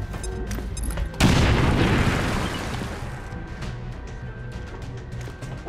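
A grenade detonates in XCOM 2 with a sudden, loud, deep boom that rolls into a long, fading rumble, with scattered game sounds before and after.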